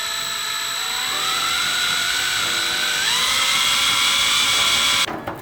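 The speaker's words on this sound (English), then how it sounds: "So we got hole number 1 drilled." A power drill bores a hole to mount over fenders on a Mazda RX-7, a loud, close, continuous whine whose pitch climbs in steps as the bit works through, then cuts off abruptly near the end, with no talking.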